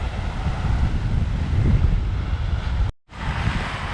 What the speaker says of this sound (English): So lovely to hear the sound of the water again.